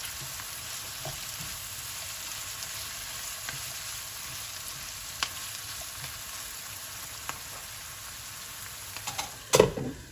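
Chopped garlic frying in coconut oil, a steady, faint, close sizzle that continues throughout, with a few louder clatters near the end.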